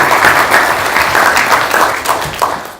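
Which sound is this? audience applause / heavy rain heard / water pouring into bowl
audience applause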